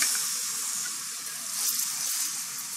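Onion sizzling in a spoonful of hot oil for pizza sauce, a steady close hiss and crackle of frying with no talk.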